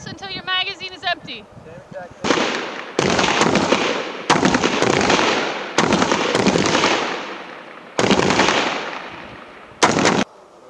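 Rifle shots from live fire on an army range, several loud sharp reports spaced about two seconds apart, each leaving a long ringing decay. A voice speaks briefly at the start before the firing.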